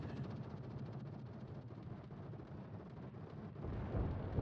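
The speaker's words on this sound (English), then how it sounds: "More explosions." Explosions in a World of Warships naval battle, a continuous dense roar of rumbling blasts and booms that builds louder toward the end.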